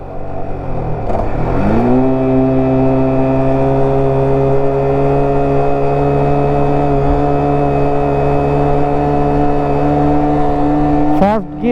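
A motorcycle descending a steep slope in first gear under engine braking, its engine holding a loud, steady drone for the whole stretch after an early dip and rise in revs, with a brief pitch swoop at the end.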